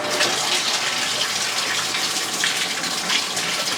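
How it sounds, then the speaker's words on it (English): Water gushes steadily into a washing machine through freshly cleaned inlet strainers on the water line, a loud, close, continuous rushing flow with no pauses. "this is our water running in after we cleaned the strainers on our water line"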